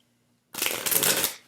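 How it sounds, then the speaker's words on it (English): A single burst of oracle card shuffling, a crisp rapid flutter of cards riffling together for about a second, close and fairly loud after brief silence. "I'll shuffle them a couple times so you know that they're shuffled."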